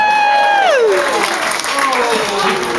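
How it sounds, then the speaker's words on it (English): A comedy-show audience breaks into a round of applause, sustained dense clapping that swells in after a sliding tone, filling the rest of the moment at a steady level. "Just give a round of applause."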